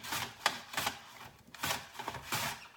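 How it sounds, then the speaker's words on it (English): Red onion being sliced on a mandolin slicer set very thin, a steady rhythm of close swishing strokes, each a crisp scrape of blade through onion. "I'm going to use my mandolin to cut a little bit of red onion here"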